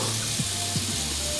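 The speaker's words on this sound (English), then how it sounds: "When I turn my faucet on." A kitchen faucet in an apartment runs steadily, giving a continuous broadband hiss of flowing water with a couple of brief low knocks partway through.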